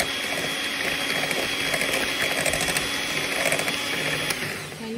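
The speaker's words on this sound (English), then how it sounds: "beating it together until the eggs have expanded with the air that you're whisking in" An electric mixer beats sugar and eggs together in a bowl, giving a steady, close motor whir with a continuous rattling buzz throughout. No one speaks.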